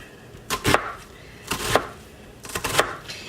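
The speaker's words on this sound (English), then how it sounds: "So 1 red onion. This is just half of it. And we're just going to mince this up." A knife mincing half a red onion on a cutting board gives three separate clusters of quick, crisp chops, close and distinct with short pauses between them, and no talking.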